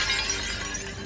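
A large glass pane shatters during a high-speed crash test in a storm scene, giving a loud, dense burst of breaking glass that stays bright and sustained for about a second.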